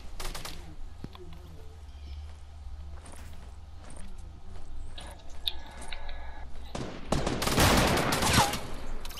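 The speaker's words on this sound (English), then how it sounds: "Is he still shooting at you?" Video game gunfire, with scattered shots and bursts across a busy scene and a louder, denser flurry near the end, heard alone without talk.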